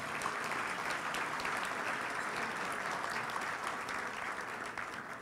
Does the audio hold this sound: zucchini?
no